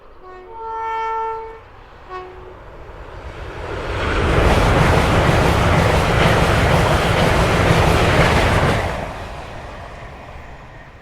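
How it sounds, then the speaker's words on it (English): A train horn sounds, then a high-speed train rushes past in a loud, sustained roar that swells and fades after several seconds. "This is a high-speed train."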